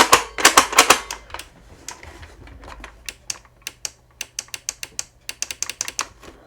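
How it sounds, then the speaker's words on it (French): Micro switch inside a toy blaster clicking repeatedly: sharp, close mechanical clicks in an uneven series, a dense burst at first, then spaced single clicks over a faint background. "J'entends en bruit que ça appuie sur le micro switch."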